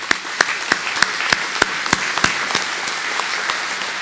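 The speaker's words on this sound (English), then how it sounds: "Another round of applause." Audience applause at an RV industry breakfast, heard as sparse, evenly spaced sharp claps ringing out in a large room, a few hands clapping rather than a full crowd.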